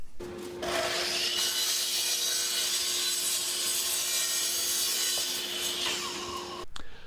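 Wooden boards for a tool cabinet are cut by hand in a woodworking shop, a steady close rasping saw stroke lasting several seconds with a faint constant hum underneath.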